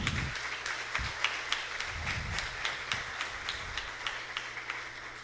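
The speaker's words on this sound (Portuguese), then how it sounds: "Aplaude essa palavra maravilhosa." A small church congregation claps after a Gospel reading, a light, fairly sparse applause with individual claps standing out, heard close and fading slightly toward the end.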